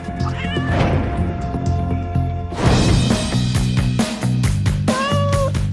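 Cat meowing loudly and repeatedly over a dense, busy background of other sound, with drawn-out tonal cries standing out near the start and again toward the end.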